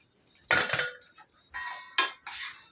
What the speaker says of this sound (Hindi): ये चिकन है ना फ्राई किएला, पूरा डाल दिए। अभी अच्छे से मिक्स करेंगे।